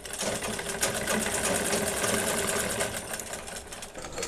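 A sewing machine runs continuously while stitching a square koli panel onto a salwar, giving a fast, even mechanical whir with rapid needle ticks, close and steady throughout.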